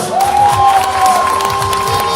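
A crowd cheers and applauds at an American football game for the Giants Wrocław, a loud, steady roar with a sustained whistle-like tone running through it.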